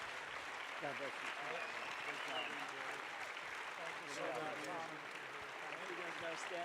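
A standing ovation at a conservative political summit: a large crowd claps steadily and continuously, with voices and a few cheers mixed into the dense applause.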